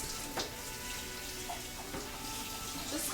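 Water runs from a kitchen tap to quickly rinse a mixer attachment, a steady close splashing flow with a few faint clinks.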